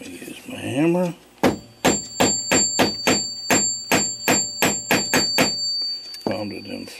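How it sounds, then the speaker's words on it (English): A hammer strikes a bushing into a Regula 25 clock movement with about a dozen evenly spaced, sharp metallic taps, close and loud. A voice speaks briefly before and after. "I'm going to use my hammer."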